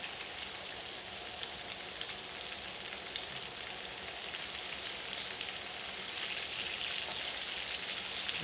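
Okra cakes deep-frying in a skillet of deep grease give off a steady, loud, dense sizzle and crackle that holds constant throughout, with no talking.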